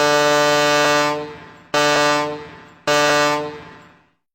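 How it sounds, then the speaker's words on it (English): A sailing vessel's foghorn sounds one prolonged blast followed by two shorter blasts, loud, close and with nothing else audible. "Start sounding your foghorn."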